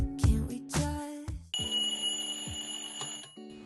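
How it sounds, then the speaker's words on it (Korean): A very loud alarm clock rings in the morning, a harsh continuous ringing tone that starts after a few short bursts and carries on steadily at close range, with no one talking. "내성이 생겨서 들리지 않는 핸드폰 알람 대신 아주 시끄러운 알람으로 한껏 썽이나 시작하는 아침"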